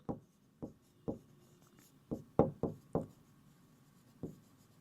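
Pen or pencil strokes on paper, a series of short sharp taps and scratches spaced irregularly, close and fairly quiet with no talking.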